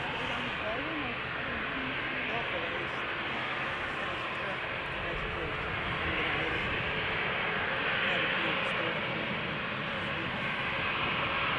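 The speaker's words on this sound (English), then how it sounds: "This is KLM flight 1233 to Göteborg. It's an Embraer 190, 15 years old." A 15-year-old KLM Embraer 190 jet airliner at Amsterdam Schiphol, flight 1233 to Göteborg, gives a steady, fairly loud jet roar throughout, with someone talking over it.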